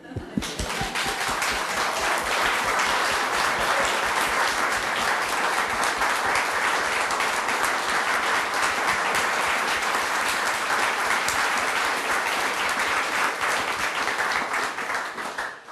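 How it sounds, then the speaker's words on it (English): A conference audience applauds in a hall, a loud, sustained wall of clapping from many people that starts abruptly and stays full and even for about fifteen seconds before cutting off. "so we'll applaud"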